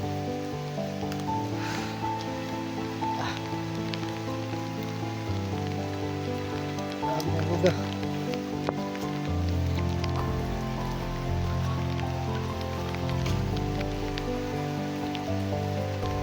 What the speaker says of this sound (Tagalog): Sabi, lakas ng ulan tol.